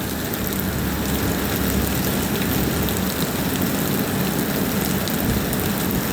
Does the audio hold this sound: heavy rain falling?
yes